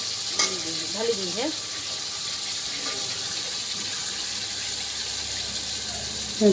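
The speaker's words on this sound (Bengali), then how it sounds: "মশলার সঙ্গে ডিমটা ভালোভাবে কষিয়ে নিচ্ছি" Eggs being fried with spice masala and green chillies in a pan for egg korma give a steady, even sizzle throughout, with a few brief scraping stirs near the start.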